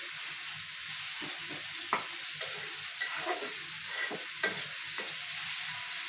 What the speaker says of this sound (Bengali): এই চুলায় আমি চিংড়ি মাছের মশলাটা কষায় নিতেছি, পেঁয়াজ আর তেল দিয়ে দিচ্ছি, সরষে তেল।